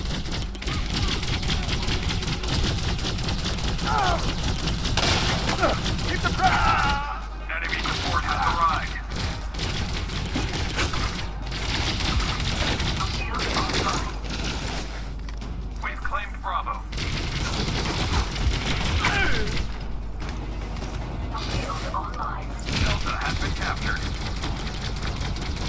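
Shooting in an on-foot firefight in Elite Dangerous: Odyssey, with sharp cracks and rapid volleys that continue steadily through the clip under someone talking nearly the whole time.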